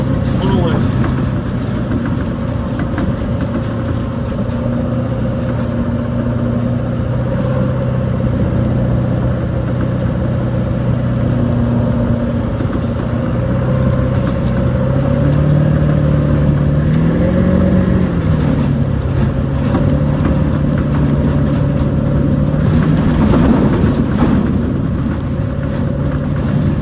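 A Ford E450 Powerstroke 4x4 truck driving off-road in four-wheel drive, its diesel engine a steady loud drone that rises and falls in pitch with throttle, with someone talking over it.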